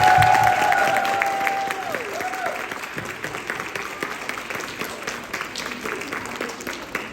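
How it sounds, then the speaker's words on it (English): A summit audience gives the woman organizer a round of applause, dense clapping loudest at the start and easing into a steady, thinner patter, with a brief tonal voice or sound over the opening seconds. "So if everyone can give her a round of applause"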